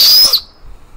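A whistle blown during a video game session, a loud, sustained shrill tone lasting under half a second before cutting off into near silence.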